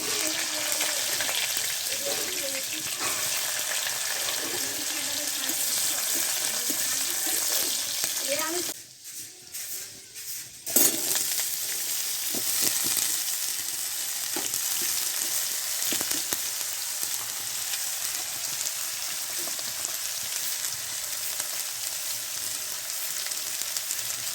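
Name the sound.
cumin and onion frying in oil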